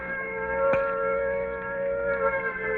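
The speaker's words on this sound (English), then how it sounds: "Sounds like an air raid alert." A steady, droning air raid siren wails with a sustained tone, heard from a distance, with a faint click partway through and no voices.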